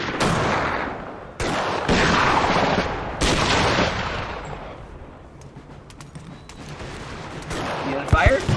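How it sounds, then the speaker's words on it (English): Musket volleys crackle in a Napoleon Total War battle, with ragged bursts of massed gunfire rolling loudly at first, fading in the middle and returning with sharp reports near the end. "Let's see if we can get a volley off here."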